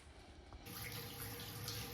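Water bursts from opened household plumbing as trapped water drains from a ceiling, starting as a faint trickle and then jumping into a steady, loud rushing splash.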